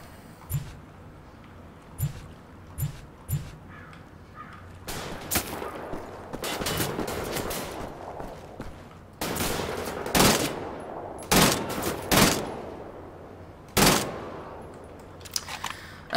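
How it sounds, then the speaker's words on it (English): Burst-fire gunshots ring out in the video game Wolfenstein: The Old Blood on a docks level: sharp short volleys, a few sparse early shots, then a busier stretch of repeated bursts with brief gaps. "Yeah, I'll stick to burst fire."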